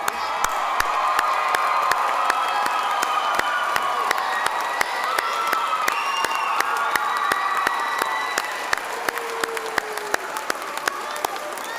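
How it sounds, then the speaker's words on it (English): Graduates at a Unitec graduation ceremony cheer and clap loudly for their whānau, a large crowd roaring continuously with whoops and shouts, sharp individual claps popping through, and the din easing slightly near the end. "I want to hear the biggest cheer for your whānau"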